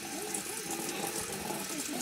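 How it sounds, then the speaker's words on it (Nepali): Water running steadily from a stone spout beside a forest path at Lele, Lalitpur, a continuous close gushing rush with faint voices in the background. "यहाँ धारो रहेछ लु म्याम पानी"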